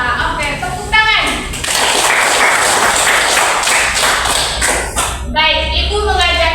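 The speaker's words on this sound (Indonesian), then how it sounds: "Oke, tepuk tangan." Children in a classroom clapping hands in a quick, rhythmic patterned burst, close and loud, with a voice speaking before and after the clapping.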